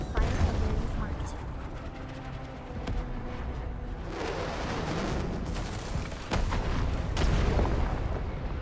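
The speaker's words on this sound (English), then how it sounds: "The UWST will fire where you've marked." An artillery strike from the UWST battery in Arknights fires onto a marked spot, with rumbling booms and crackling blasts rolling through beneath someone talking over the action.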